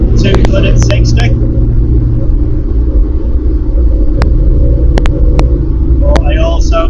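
A Triumph Stag V8 car cruising at around 60-70 mph gives a steady low rumble and road roar, with someone talking over it at the start and end.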